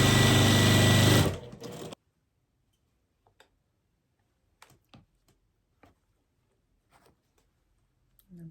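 A sewing machine stitches a flying-geese quilt block in one loud, fast whirring run that stops abruptly after under two seconds, followed by near silence with scattered faint clicks and taps.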